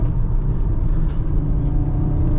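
A Renault Safrane 2.5 20V RXT's engine heard from inside while driving, a steady low rumble and whir under road noise, brief and even.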